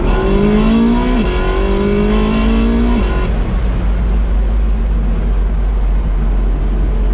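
Porsche 918 Spyder hybrid supercar accelerating hard: a loud, close engine note climbs in pitch through two quick gear shifts, then gives way to steady rushing wind and road roar with no talking.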